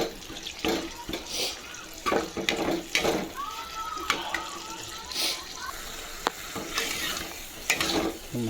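Masala paste of tomato, garam masala and tamarind being stirred in a pan for fish curry, with repeated scraping strokes over a steady sizzle while a person talks.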